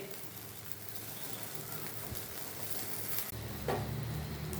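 A sabudana and egg snack sizzles in a pan over a medium flame, a steady, close crackle of frying oil that grows a little louder and fuller toward the end.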